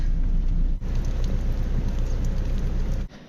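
Very heavy rain from the outskirts of a cyclone over New Zealand, a dense, loud, continuous roar of downpour drumming on a truck, steady with a brief dip near the start and end.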